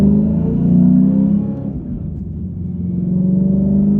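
A manual Ford Mustang GT with a twin-disc clutch pulls uphill through a right-hand turn under light throttle, its engine rumbling steadily and loud, easing briefly mid-pull before building again.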